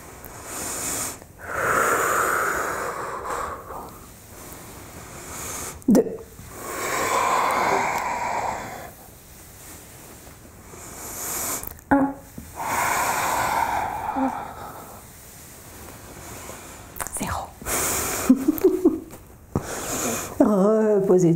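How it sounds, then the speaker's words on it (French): Slow, deep yoga breaths during a summer vinyasa session: long airy inhales and exhales repeat in waves, close and fairly loud, with a few sharper sniffs and sighs between them. "On inspire en bas et on expire vers le haut."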